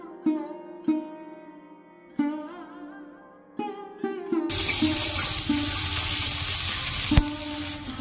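Onions frying in oil for an amudi fish curry: a few clear ringing tones at first, then a loud, steady sizzle and crackle takes over from midway and continues to the end.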